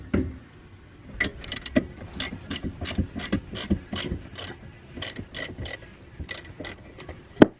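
Ratchet wrench tightening bolts on the rear brakes of a Nissan 240SX, heard as rapid, close, metallic clicking in repeated runs of ratchet strokes with brief pauses between them.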